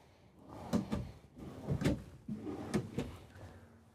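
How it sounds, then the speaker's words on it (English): Soft-close kitchen drawers in a 2024 Renegade Valencia 38RW RV slide open and shut several times, each a smooth rolling glide ending in a soft thud, heard close up. "Soft close on all your drawers."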